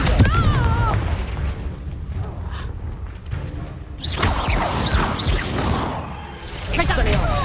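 A fiery Confringo spell blast from Hogwarts Legacy erupts midway as a loud burst with a swishing tail, surrounded by dense game effects and music, while a voice talks over the scene.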